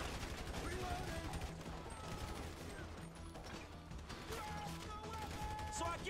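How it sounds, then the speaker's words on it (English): Sustained gunfire during a bank robbery shootout in Grand Theft Auto V, dense rattling bursts continuing under game music and effects, steady and moderately loud throughout. "So I guess we're shooting our way out of here!"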